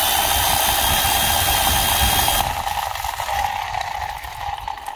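A Worx Hydroshot rotary scrubber brush (WA4043) spins with a loud, steady whirring motor hum and a ratcheting buzz. Partway through the tone drops and grows rougher as the load changes.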